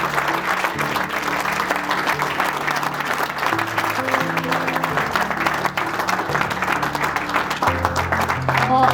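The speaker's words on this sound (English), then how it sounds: "Shall we give this lovely couple a huge round of applause?" Sustained applause from wedding guests at Wentbridge House after the couple's vows, steady dense clapping filling the room for the whole stretch with a low tone underneath.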